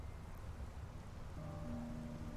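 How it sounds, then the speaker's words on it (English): Rain falls steadily as an even, soft wash of hiss, with a few faint sustained tones rising underneath toward the end. "Oh, this is crazy chill. I love rain."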